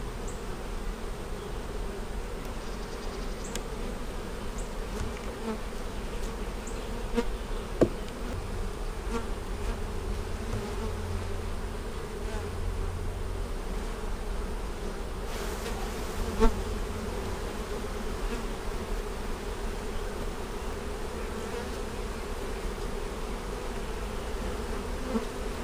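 Honeybees from a weak colony being reduced for winter, with signs of EFB, buzz steadily around the open hive at close range, a continuous drone with the odd louder bee passing nearby.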